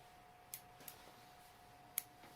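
Scissors trimming the tail of a Mega Minnow fly: a few faint, sharp snips spread out over a quiet background, with one crisper cut standing out near the end.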